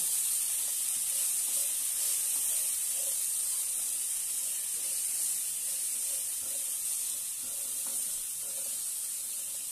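Green peas masala, a spicy Maharashtrian matar dish seasoned with salt and chaat masala, sautés in a pan, giving a steady soft sizzling hiss throughout with no talking.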